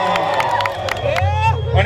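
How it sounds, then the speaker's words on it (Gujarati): A crowd gathered for the opening of Haribha's tea shop in Sidhpur claps to welcome a guest, with scattered cheers and babble rising over steady applause throughout. "આપણે સ્વાગત એટલે તાળીઓ વગાડજો ભાઈ"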